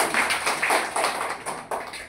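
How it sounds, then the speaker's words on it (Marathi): Hands clap at a village primary school ceremony as the audience welcomes visiting guests, a small group producing uneven, fairly close bursts of applause that swell and fade in short waves. "सर्वप्रथम शाळेच्या वतीने आपण टाळ्या वाजून त्यांचं स्वागत करूया"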